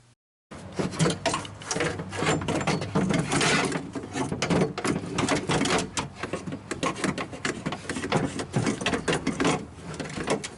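Window regulator wrestled out through the door opening of a 2004–2008 Ford F-150, with close, continuous metallic clunks, scrapes and rattles of the mechanism knocking against the door panel.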